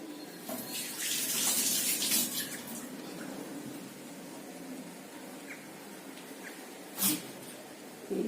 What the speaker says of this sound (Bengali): এরপর হাতটা আমি একটু ধুয়ে নিই ফট করে